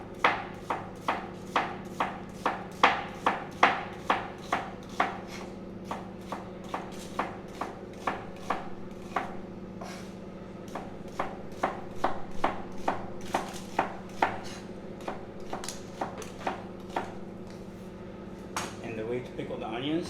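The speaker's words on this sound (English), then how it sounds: "And I'm going to julienne the onions." Rapid, rhythmic knife chops as a chef juliennes onions on a cutting board, crisp close taps repeating steadily with brief pauses, one burst after another.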